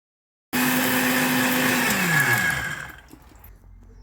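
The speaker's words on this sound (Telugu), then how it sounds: "ఒక మిక్సీ జార్లో శనగపప్పు ఉప్పు కారం వాము జీలకర్ర అన్నీ వేసి చక్కగా బ్లెండ్ చేసుకోవాలి" A mixer jar blends chana dal, salt, chilli powder, ajwain and cumin, starting abruptly with a loud whirring grind, then slowing and winding down to a faint rattle.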